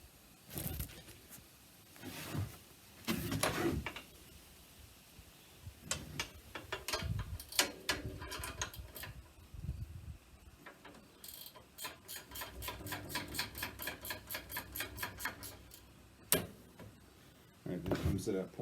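Ratcheting wrench clicking as it turns on the rear shock of a 2019 Triumph Street Twin during shock installation. Bursts of close, quick, even clicks come between clanks of handling, with someone talking at times.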